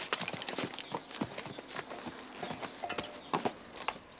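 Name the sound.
horse hooves clip-clopping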